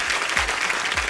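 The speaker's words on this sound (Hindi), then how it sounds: "भाई तुमके लिए जोरदार तालियां।" Loud, steady applause from a studio audience at a Hindi comedy show fills the whole short stretch, with dense clapping and no talk.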